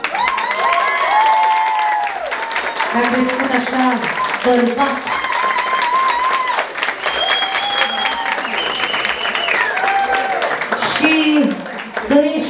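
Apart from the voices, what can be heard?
applause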